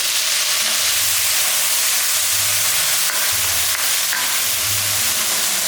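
Chopped tomato sizzles steadily in a hot pan for a cowpea kuzhambu, a continuous dense frying hiss with faint low bubbling and no talk.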